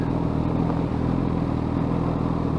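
A 2017 Honda CBR1000RR Fireblade four-cylinder engine idling and burbling steadily through a loud Graves Racing slip-on exhaust, close by, with a constant rumbling throb and no voices.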